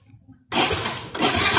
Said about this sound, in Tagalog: Ayan, umandar yung motor natin guys.